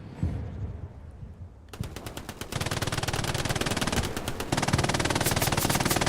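An MG42 machine gun firing in a WWII North Africa strategy game, long loud rapid bursts of automatic fire rattling steadily after a brief quieter opening.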